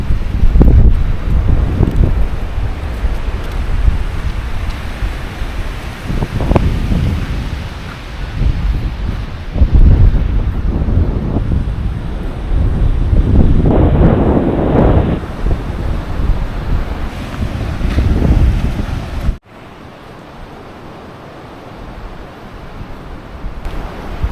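Strong wind roars against the microphone while ocean waves surge and crash in repeated swells on an Andaman beach, loud and continuous, easing briefly near the end.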